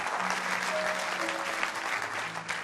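Church congregation applauding to acclaim God, with a dense, sustained wash of clapping from many hands that fills the room, steady and moderately loud, with faint tonal notes behind it.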